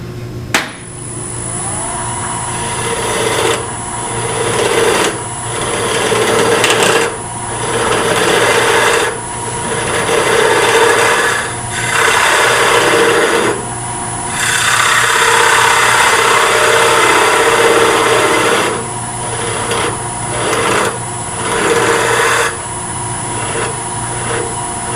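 A segmented wooden bowl base being turned on a lathe, the tool rasping and scraping against the spinning wood in repeated bursts several seconds long, loud and close over the steady hum of the machine.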